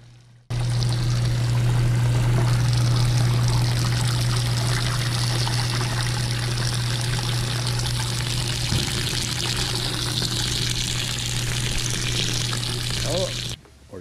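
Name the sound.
water pouring while washing a car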